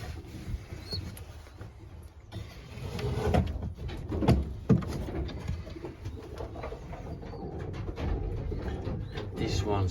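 Racing pigeons in a loft, including tiger grizzles, coo and murmur softly in a steady bed of close, low bird chatter, with occasional rustles and wing shuffles.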